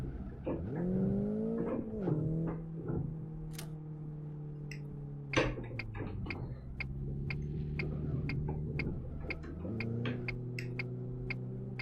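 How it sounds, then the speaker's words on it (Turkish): A Renault Clio engine in the racing sim Live for Speed drones steadily, its pitch rising and dropping through gear changes, while sharp regular ticks sound over it. "Sanki arabanın sesi değişti."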